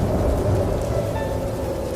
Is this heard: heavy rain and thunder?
yes